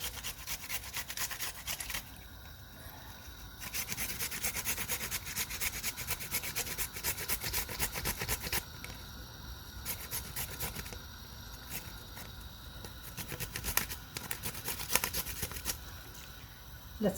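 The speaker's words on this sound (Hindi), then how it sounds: "ये ग्रेट करके अदरक डालेंगे।" Fresh ginger is rubbed against a kitchen grater in a continuous rapid scraping rasp, close and steady, with rhythmic strokes for the whole stretch and no talking.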